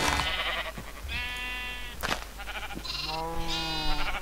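Sheep in the Minecraft video game, including a pink one, give several wavering bleats in quick succession over a low steady background hum, with no talking.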